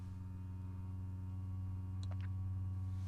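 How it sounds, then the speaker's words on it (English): A steady low electrical hum from a Rivian electric vehicle's battery cooling system drones alone, with a faint high chirp or tick briefly near the end. "it's almost like it's the cooling system in the car trying to cool down the battery"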